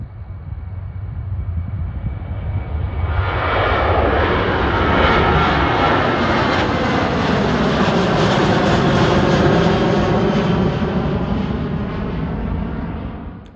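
An Atlas 747 jet departing Cleveland airport at night roars past, its engine noise building from a distant whine to a loud, sustained rushing roar with a sweeping, shifting tone, then starting to fade.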